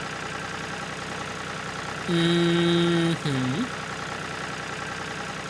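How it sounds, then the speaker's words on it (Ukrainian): A tractor engine in a foggy video game gives a steady droning rumble under constant background noise, then swells into a louder tonal roar that dips in pitch before settling back; a brief murmured voice is heard. "Це трактор так шурує."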